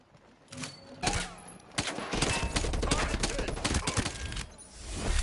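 Gunfire in the tactical shooter Ghost Recon: a dense run of sharp shots and bursts, fairly close and loud, with brief quiet gaps and faint voices underneath.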